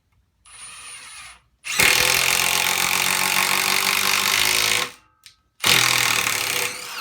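A Milwaukee 3/8-inch Fuel 2754-20 impact wrench at speed setting 3 gives a short burst, then a long loud rattling hammering run, a brief stop, and another burst, close and with no voices.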